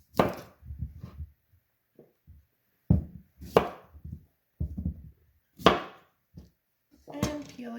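Knife chopping peeled sweet potatoes into thin strips on a cutting board, a run of crisp close thuds in short bursts with pauses between, no talking.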